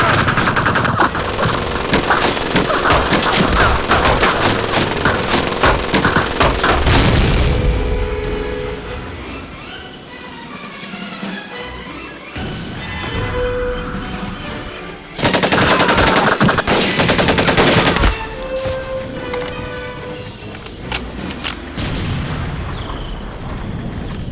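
Dense, loud bursts of machine-gun fire and booming grenade blasts fill a World War II Pacific battle in Medal of Honor: Pacific Assault, with a brief lull midway before the sustained barrage returns.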